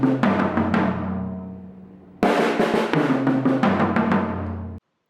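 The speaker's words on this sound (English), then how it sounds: "if I were to lead with my right hand and play a very straightforward fill, it would sound like this." A straightforward drum fill played leading with the right hand: a quick cluster of hits rings out and decays, then a loud second burst of rapid strokes with a crash-like wash rolls on before stopping abruptly, with no voices.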